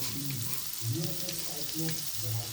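Garlic cloves, cumin and dried chillies are sautéed in a pan for a flax seed chutney, making a steady, close sizzle with a soft voice faintly beneath it.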